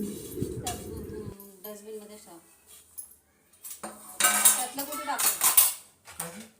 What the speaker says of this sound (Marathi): इथे भांडी पडलेली आहेत ती घासून घेते